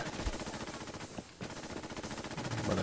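Rapid automatic gunfire from a weapon in Fallout 76, a dense burst that breaks off briefly and then resumes, loud and close throughout.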